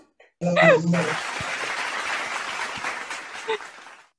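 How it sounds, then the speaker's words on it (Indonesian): Audience applause at a financial clinic talk, starting abruptly after a brief voice and holding as a steady, moderate wash of clapping that fades gradually, with a short vocal sound near the end. "kasih tepuk tangan dong"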